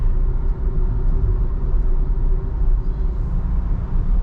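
Skoda Slavia 1.5 cruising on the highway at 80-120 km/h, its engine turning just above 1800 RPM: a steady, continuous low rumble of engine and road noise fills the cabin, unchanging and fairly loud throughout, with no talking.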